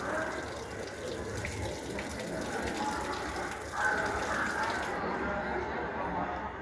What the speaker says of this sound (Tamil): குரங்கு டேப்பில் தண்ணி குடிக்குதுங்க.